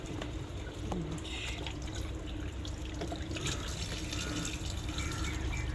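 Running tap water splashing steadily over a catfish being washed in a sink, a continuous close, moderately loud wash of water with small drips and handling noises, no talk.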